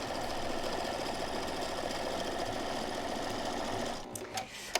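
A sewing machine runs in a steady, fast, continuous whir as quilt rows of fabric are stitched together, then stops near the end with a few small clicks.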